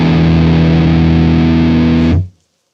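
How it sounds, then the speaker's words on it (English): On a guitar, the open 4th string D and 6th string E ring together as a sustained distorted chord, steady for about two seconds, then cut off abruptly into silence. "you're going to hit the 6th string E, and you're going to let them ring out together"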